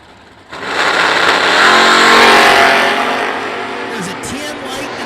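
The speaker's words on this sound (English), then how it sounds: "That is a Chrysler LeBaron, circa" A circa 1987–1989 Chrysler LeBaron drag racing car launches and roars at full throttle down the strip, loud and sustained before easing off, with a race announcer talking over it.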